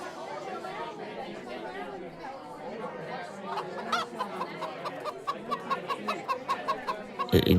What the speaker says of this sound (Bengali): কি বড় বড় মোরগ!